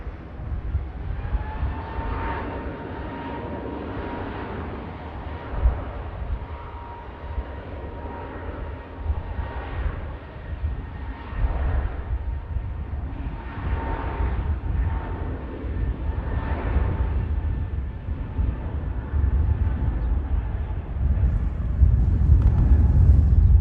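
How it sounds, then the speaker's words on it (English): A KLM airliner takes off from runway 23 left at Manchester Airport. It produces a long, heavy engine roar that builds gradually, with a rumbling low end that grows louder toward the end. "KLM rotates from 2-3 left, heading back to Schiphol"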